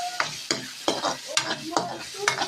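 Milkfish (bangus) frying in a pan, a crackling sizzle broken by sharp, regular spatula scrapes and taps at close range.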